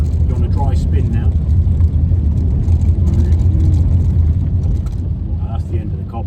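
A car rolls over cobbles on a drive from the Dartford crossing toward Brentwood, giving a loud continuous low rumble and rattle from inside the vehicle while occupants talk over it.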